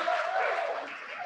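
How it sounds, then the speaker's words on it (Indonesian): Brief applause at a hospital anniversary celebration, a short burst of crowd clapping that tapers off, with a faint tonal hum or voice underneath. "Mari kita berikan tepuk tangan buat"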